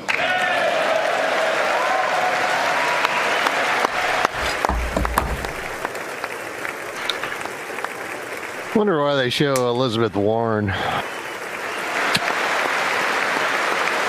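Sustained applause fills a large chamber at the 2019 State of the Union for Apollo 11 astronaut Buzz Aldrin, a steady crowd wash, with nearby voices talking over it and a brief burst of sound partway through.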